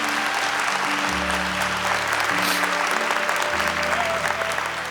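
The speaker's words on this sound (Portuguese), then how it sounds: "Então vamos aplaudir a família Canção Nova." Audience in a church gathering applauding a family, dense continuous clapping at close range with a low murmur of voices underneath, steady throughout.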